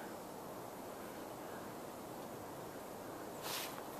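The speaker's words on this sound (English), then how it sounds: "Probably actually hear the wind." Steady wind blows outdoors on a cool, wooded hiking trail in Gainesville, Florida, a broad, even rush close to the microphone with one brief stronger gust near the end.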